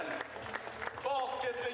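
A crowd at a basketball club event applauds for a former basketball player, the clapping sitting under a voice that talks over it.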